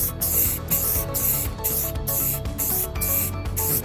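Bursts of clear coat sprayed from a can onto a carbon fiber wing and mirror, loud and close, in a steady rhythm of roughly half-second hisses with brief gaps between them.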